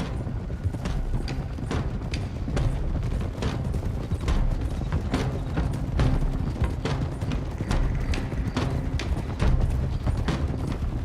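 Several horses trot in Red Dead Redemption 2, a steady, fairly close clip-clop of hooves over a dull outdoor rumble, with no talk.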